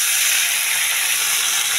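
Fish dropped into a hot pan with oil, giving a loud, steady sizzling hiss that fills the whole short moment close up.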